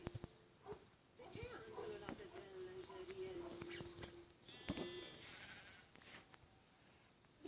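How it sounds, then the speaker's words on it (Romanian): Minecraft sheep bleat in quick succession, thin and quiet behind someone speaking Romanian, with faint game clicks in the background. "Am găsit a treia oaie."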